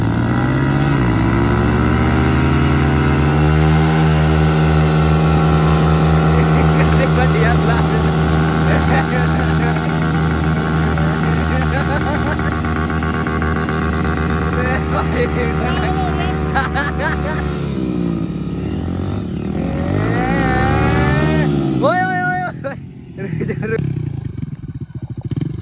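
Two Hero Splendor motorcycles, a 2019 and a 2022 model, revving hard on a muddy dirt track: a loud, sustained engine drone with rising and falling pitch that drops away near the end, with voices under it.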